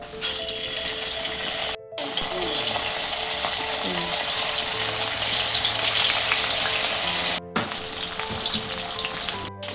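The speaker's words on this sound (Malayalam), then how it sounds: "നമുക്ക് എണ്ണ നല്ല ചൂടായി കിടക്കുന്നുണ്ട് അപ്പോൾ പൊരിച്ചെടുക്കാം" Chicken pieces deep frying in hot oil in a pan, a loud steady bubbling sizzle that cuts out abruptly twice, with faint tonal hums beneath and no one speaking.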